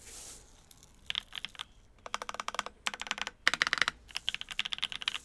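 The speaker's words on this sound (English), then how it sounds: "You guys want a little typing test?" Keys clack in quick bursts on a custom mechanical keyboard with a carbon fiber plate, bright crisp strokes rattling in short runs with brief pauses between, close and clear with no talking.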